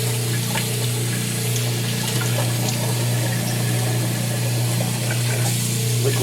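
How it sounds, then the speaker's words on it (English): Water rushing down a kitchen garbage disposal to wash away spent slime, a steady loud gushing and churning flow that continues without a break, with no one talking. "One more dousing with water so we get everything kind of"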